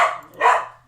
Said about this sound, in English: a dog is Um, barking